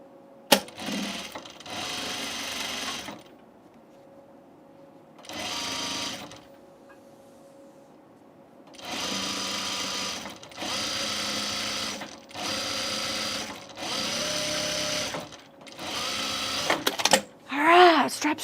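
Sewing machine stitching dress straps for a Teia dress, heard as a few short whirring runs early on, then a longer series of rapid, steady bursts close by with short pauses between them.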